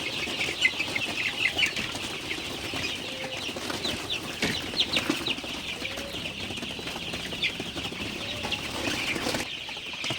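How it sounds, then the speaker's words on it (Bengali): Sonali super hybrid chicken chicks in a shed keep up a steady, dense chorus of high peeping for the whole stretch, with occasional soft wing flutters and no talking. "আপনারা দেখতে পাচ্ছেন আমার সোনালি সুপার হাইব্রিড মুরগির বাচ্চাগুলা মাসাল্লাহ আমার সুস্থই আছে"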